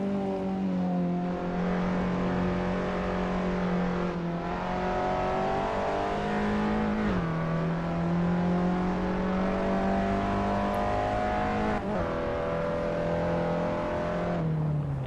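Peugeot 206 race cars lapping Oulton Park in an Assetto Corsa racing league event: a loud, continuous engine drone that holds a steady pitch, with brief dips at gear shifts around the middle and near the end.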